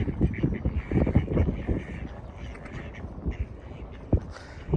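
Scattered duck quacks from birds on a Russian park lake, intermittent calls near and moderately loud over a murmuring outdoor background.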